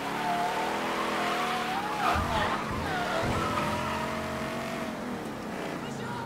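Car engine revving with tires skidding in the Mafia 3 video game, a steady loud engine drone with squealing tire tones rising and falling under a voice.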